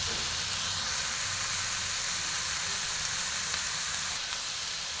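Banana stem sautés with mustard-coconut paste over a medium flame, producing a dense, continuous close sizzle and steamy hiss that stays steady throughout, with no one talking.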